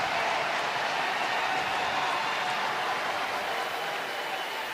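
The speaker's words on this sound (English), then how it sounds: "Listen to this crowd." A college football stadium crowd at a South Dakota State versus North Dakota game roars in a sustained, dense wash of cheering that stays loud and even throughout.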